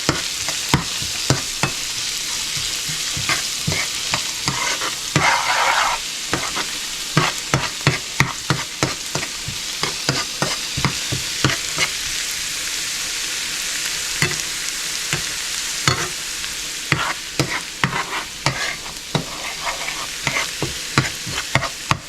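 Chopped onions for Schezwan chicken fried rice stir-fry loudly in a pan, with a constant close sizzle cut by rapid, repeated scraping strokes of a spatula.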